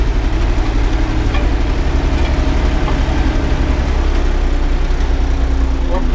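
An Erkunt tractor harrowing a sunflower field runs with a loud, steady diesel rumble close by, its engine droning continuously while a voice speaks faintly over it.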